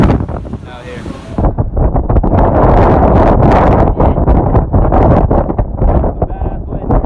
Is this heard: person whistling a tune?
no